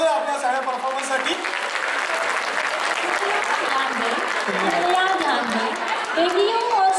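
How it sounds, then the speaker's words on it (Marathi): Loud, sustained audience applause at a cultural performance event, steady dense clapping mixed with crowd chatter and a few voices throughout. "एकदा जोरदार टाळ्या होत जातात आपल्या सगळ्या परफॉर्मन्ससाठी"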